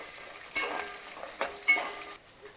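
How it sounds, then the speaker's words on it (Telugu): Onions and green chillies fry with biryani spices in hot oil for bagara rice, sizzling close by with a few spoon-on-pan scrapes and clinks and no talk. "బిర్యానీ స్పైసెస్ వేసుకొని అవి కొంచెం వేగిన తర్వాత ఆనియన్, పచ్చిమిరపకాయలు వేసేసుకున్నా."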